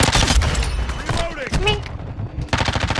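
Rapid bursts of automatic gunfire in a shooter video game, loud and close, with chopped rattling volleys and a voice briefly calling out between shots.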